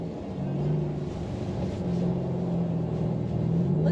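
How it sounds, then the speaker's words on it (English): A Lamborghini lapping a frozen lake track gives off a steady, low engine drone with a rumbling tone, heard from inside or near the car at moderate loudness. "we ended up hopping in some cars and headed out with them to do some hot laps around the track"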